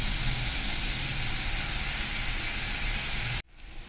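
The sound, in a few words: onions frying in a pan for egg curry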